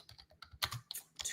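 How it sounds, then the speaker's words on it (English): Computer keyboard typing while a banner is entered during a live sports betting stream: quiet, quick irregular key clicks in a short burst, close by. "So I'm just typing a little banner."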